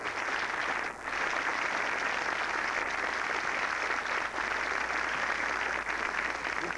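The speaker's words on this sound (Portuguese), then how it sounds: "Salva de palmas para ele." TV talk-show studio audience applauds a guest, a continuous wash of clapping that holds level throughout with only a couple of brief dips.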